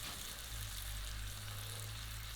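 A bone-in veal chop going back into a hot pan after resting, giving a steady, continuous sizzle and frying hiss over a low hum, quiet and close with no talking.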